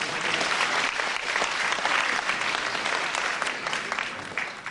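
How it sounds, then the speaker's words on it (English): Crowd at a wrestling match applauds a show of good sportsmanship, a steady, fairly dense clapping from many spectators heard at moderate distance, lasting throughout and easing slightly at the end. "Nice to hear applause for good sportsmanship there"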